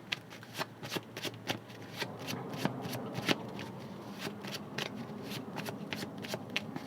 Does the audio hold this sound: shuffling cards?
yes